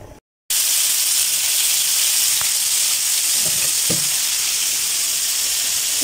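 Potatoes frying with turmeric and salt in a pan produce a loud, steady, close sizzle throughout, with a few faint knocks of a utensil against the pan.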